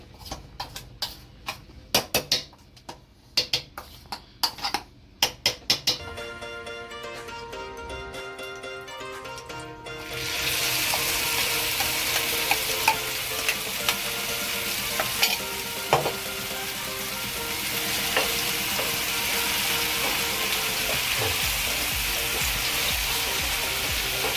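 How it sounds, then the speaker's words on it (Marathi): Stuffed bangda mackerel frying in hot oil gives a loud, steady sizzle that starts at about ten seconds and continues to the end. Before that come scattered clinks and taps. "तेल गरम झाल्यावरती आपल्याला ते फ्राय करून घ्यायचं आहे."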